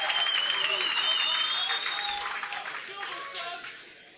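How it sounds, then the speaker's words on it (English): A comedy-show audience at The Blackout in London applauds steadily, the clapping gradually fading, with a voice calling out over it. "we keep the applause going for your second act, Staneika!"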